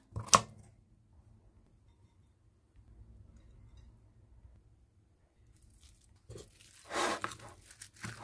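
Scissors snip soaked rice vermicelli and black mushroom into small pieces: one sharp close cut, a quiet stretch, then a short cluster of crisp snipping near the end.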